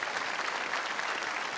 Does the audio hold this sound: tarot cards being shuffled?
no